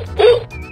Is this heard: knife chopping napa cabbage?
no